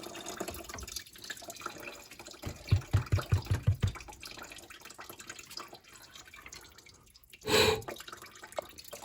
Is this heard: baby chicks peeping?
no